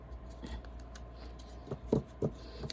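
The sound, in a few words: shuffling a deck of matte oracle cards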